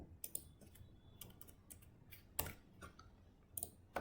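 Keys on a computer keyboard clatter in quiet, irregular bursts of clicks, close and soft with small pauses between strokes.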